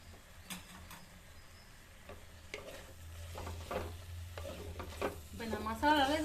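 A spoon stirs brinjal moju masala in a pan, with soft scraping strokes and a quiet sizzle that grows busier and louder toward the end, and a voice is briefly heard.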